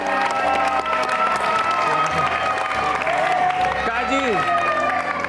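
Studio audience applause at the Take Me Out Indonesia dating show, sustained loud clapping and cheering filling the room, with a presenter speaking over it.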